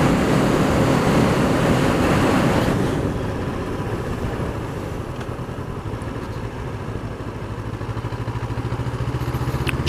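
A 2019 Honda CB500F motorcycle lugs in third gear on a cold day, its engine chugging in low rapid pulses beneath heavy rushing wind that eases after a few seconds.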